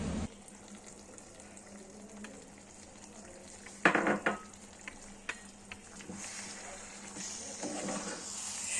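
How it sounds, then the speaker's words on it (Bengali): Mango pickle fries in a pan with intermittent stirring scrapes and a louder clatter midway, under a steady low sizzle, alone without talk. "তারপর আচারটা একটু ভাজা ভাজা হয়ে যাক"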